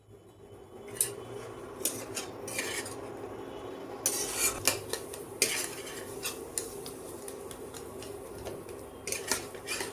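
A metal spoon stirs and roasts grated gujiya filling in a pan, cooking it until the ghee separates, with irregular clinks and scrapes against the pan at close range.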